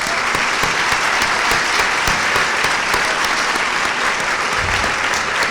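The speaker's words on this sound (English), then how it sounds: "let's give them a round of applause" A crowd applauds honored students at a 2014 high school senior honors convocation, with dense, steady clapping filling the whole stretch at an even loudness and no voices on top.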